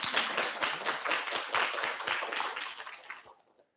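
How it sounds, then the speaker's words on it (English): Audience applause at an ocean law and policy conference, a dense burst of many hands clapping that holds steady and then thins out and fades over a few seconds. "Let's clap for the"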